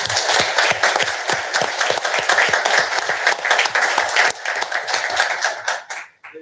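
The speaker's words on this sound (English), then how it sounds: "So let's give Ben a round of applause." Audience applause at a Mississippi Transportation Commission meeting: a steady run of dense clapping from a room of people, fairly close and sustained, tapering off quickly at the end.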